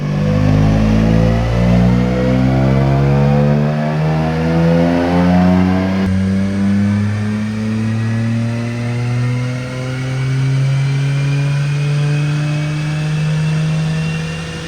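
A Toyota GR Corolla revs on a dyno, its engine climbing through repeated loud pulls with rising, falling and sustained tones and gear changes, close and powerful with no voices.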